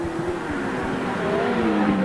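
Grasstrack sidecar racing outfits at a 1993 Stone in Oxney meeting run flat out down the straight, a loud sustained engine roar with a rising and falling tone that continues steadily throughout.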